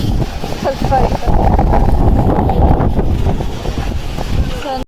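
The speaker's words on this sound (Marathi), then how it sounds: "एवढा वारा आहे" Strong wind buffets the microphone at a fog-covered Mahabaleshwar viewpoint, a loud, continuous low roar with gusty surges, while a person talks over it; the rumble cuts off abruptly at the end.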